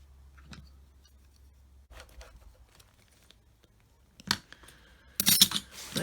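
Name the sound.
cutting with scissors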